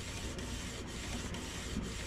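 Epson L121 inkjet printer printing a document, a close, steady mechanical whir and rasp with regular soft pulses as the print head sweeps back and forth.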